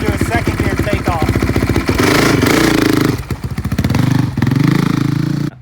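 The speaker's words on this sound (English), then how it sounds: "I'll do a second gear takeoff." A Honda CRF450R dirt bike fitted with a Rekluse automatic clutch pulls away in second gear, its engine loud and close, revving up in rough pulsing bursts with a brief dip before climbing again.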